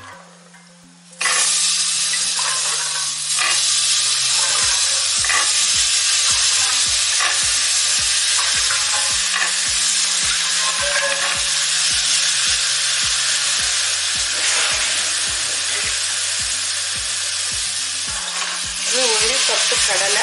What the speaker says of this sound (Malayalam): ഇനി നമുക്ക് ഈ കുതിർത്തി കഴുകി വെച്ചിരിക്കുന്ന ഈ കടല ചേർത്ത് കൊടുക്കാം.